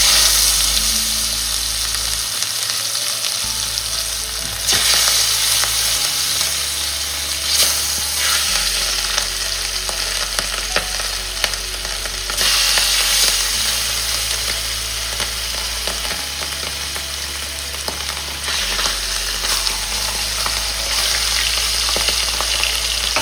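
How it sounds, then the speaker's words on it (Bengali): Fish frying in oil with black cumin and a dried chilli, a loud, steady close-up sizzle lasting throughout with occasional stirring and spatter, with no talk. "মাছগুলো একদিকটা ভাজা হয়ে গেছে, এবার অপর দিকটা ভেজে নেবো।"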